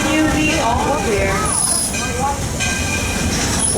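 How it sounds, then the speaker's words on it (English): The Walt Disney World Railroad train runs with a loud, steady rumble and occasional high metallic squeals, while a voice speaks over it. "Please remain seated until the train comes to a full-line complete stop"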